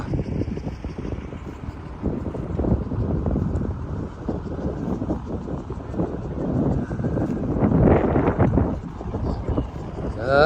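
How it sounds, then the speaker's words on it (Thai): Strong dry wind buffets the microphone outdoors at a crowded event site on a cold night, a steady broadband roar with gusts swelling around the middle and end, with faint voices mixed underneath. "ตอนนี้ขึ้นลมแห้งครับ พี่น้องได้ยินเสียงลมบ่"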